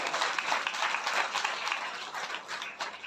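An audience claps together at a spiritual discourse, a dense, steady burst of many hands close by that tapers slightly toward the end.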